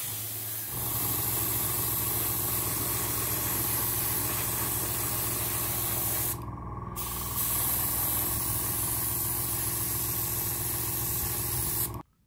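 An airbrush sprays Vallejo Model Air Metallic Black paint onto black plastic model weapons, producing a close, continuous hiss with a compressor drone underneath that runs for about eleven seconds, with one brief dip partway through.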